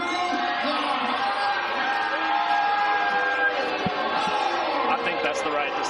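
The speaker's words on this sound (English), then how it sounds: "I hear the boos in the crowd" Crowd reaction at an MMA fight night in a casino hotel arena right after a unanimous decision, a dense sustained roar of voices with shouts and whoops, steady and loud throughout with some talk mixed in.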